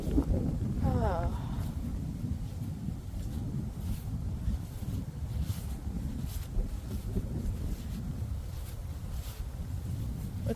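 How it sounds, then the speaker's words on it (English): Outdoor wind buffets the microphone with a constant low rumble throughout, with a faint voice now and then. "With the wind shifting and coming from the other direction"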